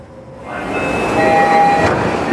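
A Tokyo subway train runs through an underground tunnel, its rumble swelling steadily with a whining electric motor tone and faint rail clatter close by.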